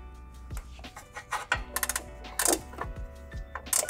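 A wrench loosening a bolt on the crossmember of a BMW E70 X5, reached up past the exhaust, giving repeated metallic ratcheting clicks and knocks in irregular short bursts, close and fairly clear.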